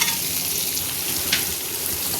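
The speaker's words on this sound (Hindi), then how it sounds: "ये मेरा 1 प्याज है, पूरा मीडियम साइज के प्याज था। इसको हम भून लेते हैं।" One medium-sized onion fries in a pan, giving a close, even sizzle with a faint crackle and no speech.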